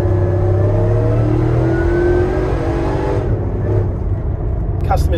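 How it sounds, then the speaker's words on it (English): A Nissan Y62 Patrol fitted with a Harrop 2650 supercharger accelerates hard, its engine roaring loudly with a rising supercharger whine over a deep, steady drone, ending in a brief lift-off. "You can hear the supercharger, which sounds unreal"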